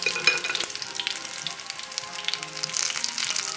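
Veal cordon bleu sizzles and crackles steadily in a hot frying pan, loud and close, with a brief clatter as the cutlet is flipped over.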